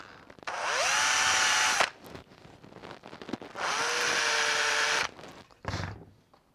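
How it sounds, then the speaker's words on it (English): A power drill whines in two long bursts, spinning up and boring steadily through a workpiece for a push pad project, with short pauses and a brief clunk between them, close by. "align the piece and drill the second hole"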